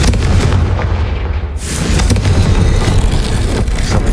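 Confringo blasting spell in the video game Hogwarts Legacy, a loud booming explosion burst with a sharp onset midway, followed by rumbling debris and crackle, close and heavy.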